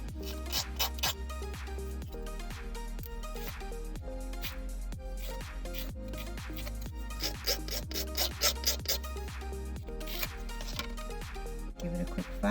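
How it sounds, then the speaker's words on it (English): A file rubbing excess nail polish strip off a fingernail, a rapid, soft, continuous back-and-forth scratching close by, over a faint musical background. "give it a quick file, get rid of that excess."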